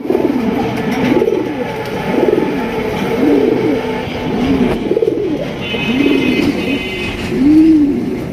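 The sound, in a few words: red checker Rajgolla pigeons cooing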